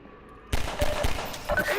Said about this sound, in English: Oh, that guy sniped me.